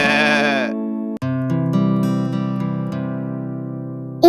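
A goat bleats in a long wavering cry at the start, followed by a sustained tonal drone with a plucked-string-like accompaniment.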